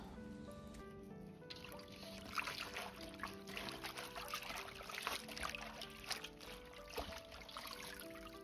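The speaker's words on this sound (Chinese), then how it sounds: "接下来清洗，尤其是菠菜的根部泥沙特别多，最好是浸泡5分钟再来洗" Spinach washed by hand in a basin of water, with a steady trickling, splashing wash running throughout over background music.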